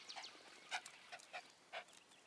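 Dogs on a morning walk in the woods pant in quick, soft bursts close by, a faint breathy rhythm with no talking.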